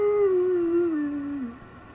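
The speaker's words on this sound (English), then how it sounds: "There's a werewolf, though." A werewolf in the Wolfenstein video game gives a single drawn-out howl that slowly falls in pitch over about a second and a half, heard alone and fairly clear against quiet game ambience.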